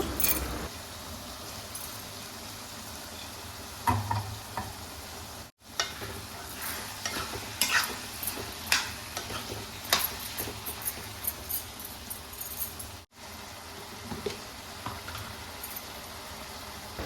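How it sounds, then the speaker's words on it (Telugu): Soaked white chickpeas are stirred into a brinjal curry in a pan, giving a soft simmering sizzle with irregular scraping and light clinks of a spoon against the vessel, fairly quiet and without speech. "మనం ముందుగా నానబెట్టుకొని ఉంచుకున్న తెల్ల శనగలను కూరలో వేసుకోవాలి. వేసుకొని బాగా కలుపుకోవాలి."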